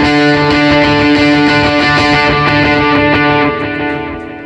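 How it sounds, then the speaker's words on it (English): A guitar played through a pedalboard's ambient ping-pong delay rings out in dense, sustained harmonic tones, with repeating echoes bouncing and layering before the sound thins and fades near the end. "This is more of like a ping pong style delay."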